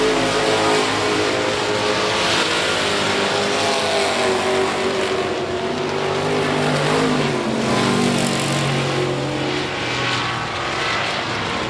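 Race cars roar steadily around the I-37 Speedway oval in a dense, continuous engine drone, with pitch shifts as they pass and no break in the loud, sustained noise.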